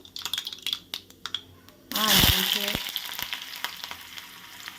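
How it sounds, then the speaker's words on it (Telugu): Mustard seeds, cumin and dals hitting hot oil in a pan for a cabbage and carrot dish, a few light ticks and taps first, then a sudden loud burst of crackling sizzle that settles into steady close frying. "ముందుగా కొద్దిగా ఆయిల్ వేట్ చేసుకొని ఇందులోకి ఆవాలు జీలకర్ర పప్పులు అవన్నీ వేసుకోవాలన్నమాట"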